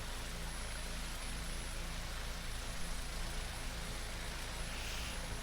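Huey helicopter engine in a flight sim game with its rotor RPMs winding up before takeoff over Las Vegas, a steady, dense whine and rumble holding at an even loudness throughout.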